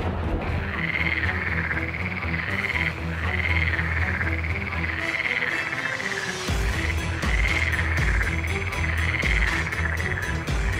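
Animated frogs croak in a thick chorus of repeated rhythmic croaks, loud and continuous with a shift partway through, alone without talk.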